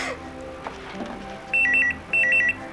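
A telephone rings in two electronic trilling bursts, loud and close, after a few seconds of quiet room noise, in a Hindi TV serial.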